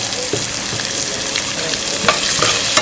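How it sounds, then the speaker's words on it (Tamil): Grated coconut and cooked cowpeas fry in oil for karadaiyan nombu adai, giving a loud, steady close-up sizzle with occasional stirring clicks and no talking. "இந்த தேங்காய் வந்து எண்ணெயில் லைட்டாக வதங்கினா கரெக்டாக இருக்கும்"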